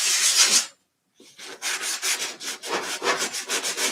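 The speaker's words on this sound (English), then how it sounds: "We're sanding." Sandpaper rubs back and forth on a lamp to smooth its sharp edges, a steady rhythmic rasping with a brief pause, then quick repeated strokes, close and loud.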